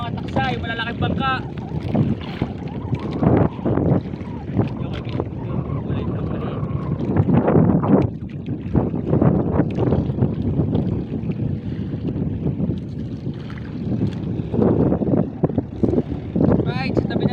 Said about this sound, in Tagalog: Yan ang mga taksay, malalaking bangka.